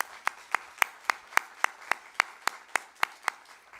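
Clapping at a graduation ceremony: about a dozen sharp, evenly spaced claps in a steady rhythm, fairly close and moderately loud, with no talking over them.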